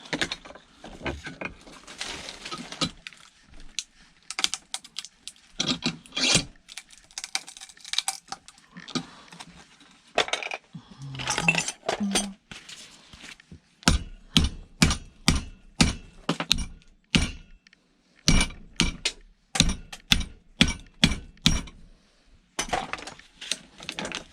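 A small circuit board is pried and pulled out of scrap electronics: irregular bursts of clattering, clicking plastic and metal, some cracking and snapping, with quick rapid ticks, all close and busy, with no voices.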